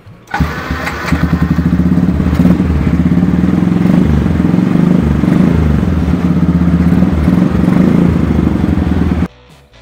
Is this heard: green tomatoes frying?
no